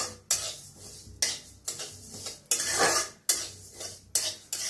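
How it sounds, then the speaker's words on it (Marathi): Sesame seeds roasting dry in a pan, stirred with a spoon in regular scraping strokes that return about every second, close up and fairly loud with no voices. "तर तीळ चांगलं भाजून घेऊया, तीळ लगेच भाजतात"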